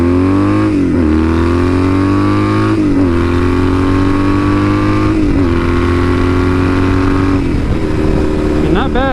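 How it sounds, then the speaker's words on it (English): A 42-year-old classic motorcycle's engine revs up through several gears to about 70, pitch climbing then dropping at each shift, loud and close with steady road and wind noise. "for a 42-year-old motorcycle, this is a damn good one. Still just cranking along"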